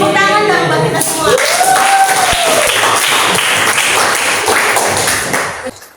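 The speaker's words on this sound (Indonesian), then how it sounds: "Tepuk tangan dong buat kita semua" Classroom group clapping together after a chemistry lesson, a loud close burst of applause with a sliding whistle-like tone and some voices, tapering off near the end.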